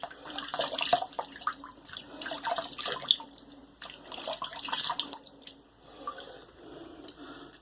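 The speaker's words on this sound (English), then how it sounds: "I already prepped my face, but I'm going to re-wet it." Water splashes and drips as a face is re-wetted at a sink before shaving, with irregular bursts of splashing, brief pauses and close, moderately loud trickles.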